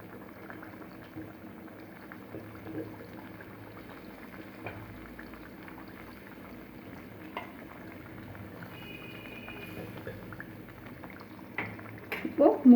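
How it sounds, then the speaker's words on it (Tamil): Fish curry (sankara, red snapper) simmering in a pot gives a steady, low bubbling boil throughout, with a few clinks and a louder burst near the end. "குழம்பு நல்லா கொதித்து பச்சை வாசமெல்லாம் போய் கொஞ்சம் கெட்டியான மாதிரி இருக்கும்"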